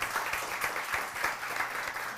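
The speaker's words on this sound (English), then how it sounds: "give a quick round of applause for everyone here" A small audience at a bartending education session in Halifax gives a brief, soft round of applause, light scattered claps blending into a steady patter with no voices over it.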